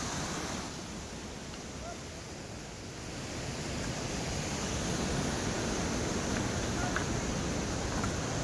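The Bhotekoshi river rushing below the Arniko Highway, a broad, continuous roar of turbulent water that swells slightly louder partway through, mixed with wind buffeting the microphone.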